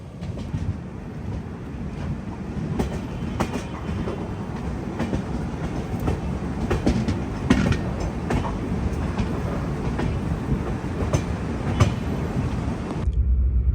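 The Pune Kanyakumari Express runs near Kollam junction with a loud, steady rolling rumble and repeated clickety-clack wheel beats over the rails, heard from on board without talk.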